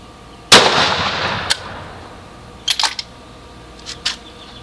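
A single sharp, loud 6.5 Creedmoor rifle shot firing a 130-grain RDF bullet over a maximum H4350 or Reloader 16 powder charge, cracking close by with a brief decaying echo, then a few light metallic clicks of the action.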